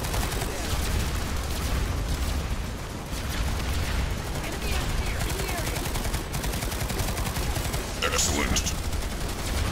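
Continuous rapid gunfire and explosions from a PS2 video game rattle in a dense, steady barrage, with a brief spoken word under the din.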